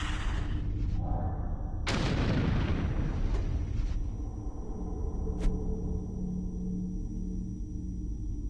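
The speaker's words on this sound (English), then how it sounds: "See, now we have the shooting." Heavy gunfire and blasts from a shooter game, the Doom 3 Phobos mod, with a loud booming burst followed by a rumbling, crackling tail and a sharp later report.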